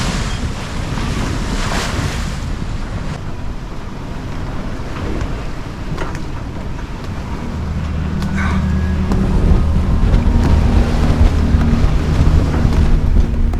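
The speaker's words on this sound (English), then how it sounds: "You can listen to the shaking from the sails forever." Sails shaking and flapping on a sailboat at sea off the Netherlands, with steady wind and waves washing around the hull; continuous rushing noise that swells louder in the second half, no voices.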